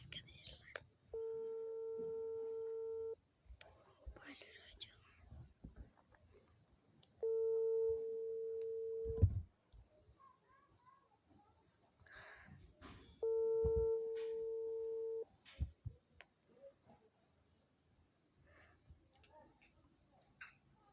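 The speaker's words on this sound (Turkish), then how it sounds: "Çalıyor" A phone ringback tone sounds over speakerphone during a call: three long steady tone bursts, each lasting about two seconds with several seconds of quiet between them, and soft voices and small handling noises fill the gaps.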